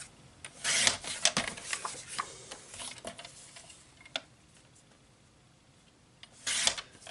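Soft scraping and ticking as greeting cards are trimmed on a cutting guide, with a few close, quiet rasps and clicks and brief scuffs and no voices.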